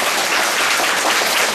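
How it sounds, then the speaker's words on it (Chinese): A short, dense burst of audience applause at a lecture in Hong Kong, loud and even throughout, with no speech over it. "咱们应该是不是应该给他一点掌声鼓励啊"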